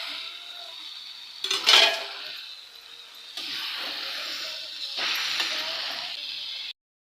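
Chopped vegetables including okra tipped into a hot pan for a tamarind-free kuzhambu, sizzling in bursts with clinks of utensil stirring, close and fairly loud, no voices.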